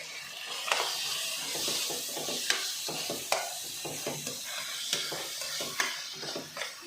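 Fried rice sizzles in a pan with garam masala and pepper powder while it is stirred: a constant loud hiss broken by regular scraping and clanking strokes of the spoon against the pan.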